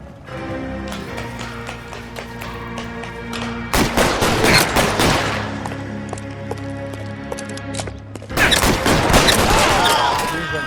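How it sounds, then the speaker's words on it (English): Gunfire from a police shootout in the video game L.A. Noire, with loud bursts of rapid shots in two clusters over a sustained game music bed. "Shots fired."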